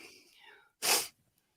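A single sharp, close sneeze bursts out after a moment of soft, low talk during an art livestream, then quiet follows.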